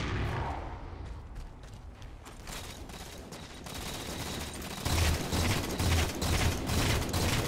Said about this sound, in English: Again, I'm shooting at the guy who's being shot at.